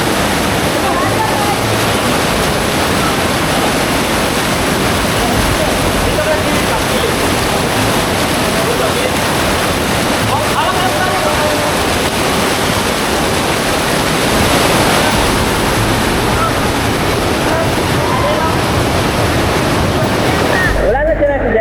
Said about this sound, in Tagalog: masyado na talagang malakas ang ahagos ng tubig